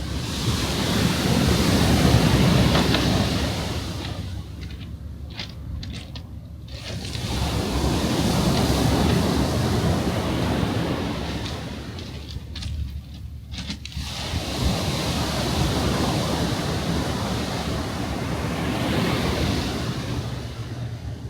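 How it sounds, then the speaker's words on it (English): Sea waves roll onto the shore at Odawara in rainy weather, a continuous rushing surf that swells and recedes in slow surges, with gusts of wind buffeting the microphone. "I will let you with the sounds of the waves, so you can imagine yourself with me watching the sea"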